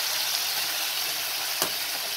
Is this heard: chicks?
no